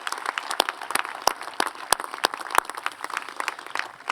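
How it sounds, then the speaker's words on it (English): Scattered applause from an outdoor audience at a high school graduation ceremony for teachers and administrators, with sharp, distinct claps standing out over a thinner, uneven layer of clapping. "Please give a round of applause for these exceptional teachers and administrators"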